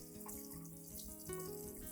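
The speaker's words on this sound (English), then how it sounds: "rinse the plant under clean running water" Tap water runs steadily over an orchid plant being rinsed, a faint, continuous splashing stream that stays fairly even throughout.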